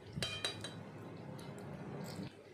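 Food being spooned into bowls for a tiffin lunch box of basanti pulao and chicken, with a few quick clinks of a spoon against dishes at the start, then a soft steady scraping clatter that stops near the end.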